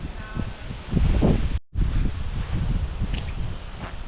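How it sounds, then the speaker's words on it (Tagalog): Strong wind from Typhoon Aghon buffets the microphone in continuous roaring gusts with a brief dropout, loud and close, with no talking. "ang lakas ng tama na hangin oh"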